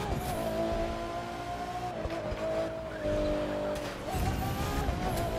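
Tempesta hypercar in The Crew 2 video game, a loud continuous engine drone with shifting pitch and tire noise as it slows hard, dipping briefly then surging again, with faint talk underneath.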